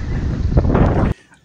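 Loud, rumbling wind buffets the microphone for about a second on land by the sea, then cuts off abruptly into near quiet.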